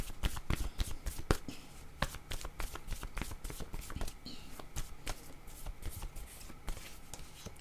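Tarot cards being shuffled up close, a quick series of crisp riffling snaps and flicks at irregular intervals, fairly quiet throughout.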